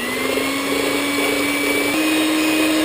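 Electric mixer whisking egg whites with 200 g of sugar over a bain-marie, a steady loud motor whine that rises slightly in pitch partway through, continuous throughout.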